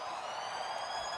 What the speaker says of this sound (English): But that is the siren.